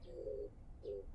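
Oriental turtle doves in a town give two soft, low, hollow coos, separated by a short pause and heard alone against quiet background hum.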